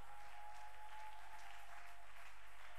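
A church congregation applauding together in a French-language worship service, a continuous, even wash of clapping that fills the whole stretch with no pauses.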